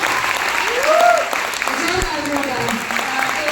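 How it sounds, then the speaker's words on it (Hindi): Audience applause fills a women's empowerment training session, a steady wash of clapping with a brief whistle-like tone near the start and voices mixed in. "एक बार साहू चौधरी सर के लिए और सुमेश सर के लिए एक बार जोरदार तालियां"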